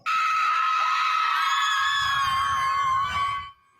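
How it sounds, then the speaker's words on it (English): Women scream together at a mom scream event, one sustained loud high-pitched group shriek lasting several seconds before cutting off abruptly, with a low crowd rumble underneath toward the end. "They're organizing events where mothers and women get together and scream."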